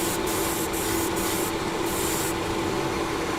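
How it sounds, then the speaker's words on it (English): An airbrush lays a slow, wet coat of Vallejo surface primer, giving a steady, close hiss of air and spray that runs without a break, with no voices. "I'm just moving the airbrush a little bit slower over it, giving it a wetter coat"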